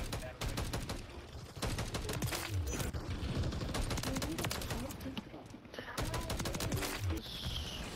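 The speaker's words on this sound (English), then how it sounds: "Quick scope for the battle rifle." Rapid battle rifle gunfire in an online first-person shooter match, loud sustained bursts of shots with short pauses, under heavy game mix and some voice chatter.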